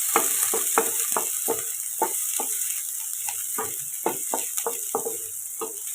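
Carrot and capsicum sautéed in a pan for masala rice: a steady sizzling hiss under a regular series of sharp spatula taps and scrapes, close and evenly paced.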